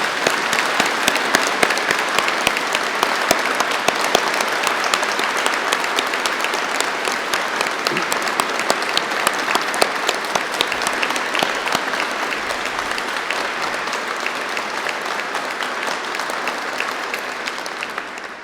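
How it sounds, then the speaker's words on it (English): A large audience at a university degree ceremony in Ely applauds the graduates, producing a dense, sustained roar of clapping that stays loud and even for the whole stretch with no talking. "let's start today's ceremony by giving all of our amazing graduates a huge round"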